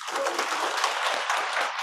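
A crowd at a Punjab gathering for poor families applauds loudly, a dense continuous patter of hand claps filling the whole stretch without pause.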